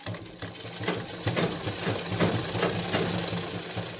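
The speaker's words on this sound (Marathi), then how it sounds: "आता आपल्याला शिलाई इथपासून सुरुवात करायची" A sewing machine stitches leftover dress fabric into a handbag, running steadily with a close, continuous whir and rapid needle clatter for several seconds.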